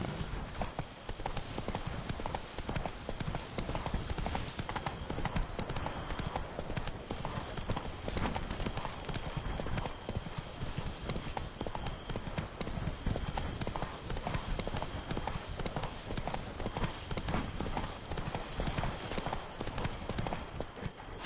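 Roach, the horse in The Witcher 3, gallops at a steady driving rhythm of dense hoofbeats from start to finish, loud and close over outdoor game ambience.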